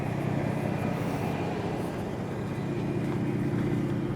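A modded Ford Raptor pickup truck cruises through hilly terrain, its engine and road noise a steady, moderate droning hum from inside the cabin, with no talking.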